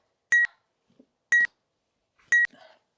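A workout timer buzzer during an abs and core session gives three short, loud electronic beeps, spaced about a second apart, with faint soft noises in the gaps.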